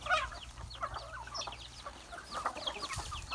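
Breeding hens on a chicken farm cluck in a busy, overlapping chorus, short chirpy calls rising and falling at moderate distance, with a louder burst near the end and no talking.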